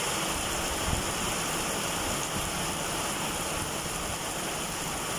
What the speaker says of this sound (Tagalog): Yan at inabot po kami ng ulan.